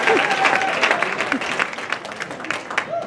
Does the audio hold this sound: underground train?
no